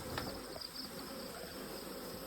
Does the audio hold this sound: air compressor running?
no